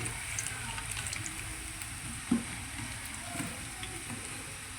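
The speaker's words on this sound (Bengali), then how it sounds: "বড়াগুলো ভেজে নিই, বড়াগুলো ভেজে আবার আপনাদের দেখাচ্ছি।" Banana kofta fritters fry in a pan with a steady, soft sizzle throughout, broken by one brief clack of a utensil.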